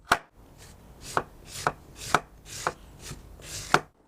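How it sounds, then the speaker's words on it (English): Cabbage being shredded for barrel-style sauerkraut with a shredding knife, about eight crisp, evenly spaced cutting strokes, close and distinct with no talking. "And we start shredding it like this."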